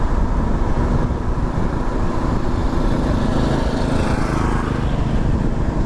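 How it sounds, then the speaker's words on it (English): A ride-on lawnmower drives along a road, its engine a steady loud drone mixed with wind rush, continuous for several seconds without pauses. "Oh, there's somebody coming in a lawnmower."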